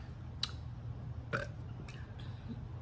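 Low, rumbling burps from a girl after overeating, a couple of deep belches with faint sharper noises around them, close and fairly quiet.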